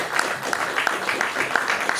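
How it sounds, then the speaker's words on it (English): A conference crowd at an African travel content creators event applauds, a thick, continuous patter of clapping with a few sharper individual claps popping out, fairly loud and sustained. "Give yourself a round of applause"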